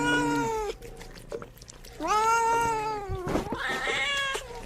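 Several cats meow and caterwaul in long, drawn-out, harmonic cries, three loud bouts in a row with brief pauses, near and alone with no talking.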